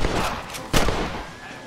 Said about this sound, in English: I'll shoot you some space.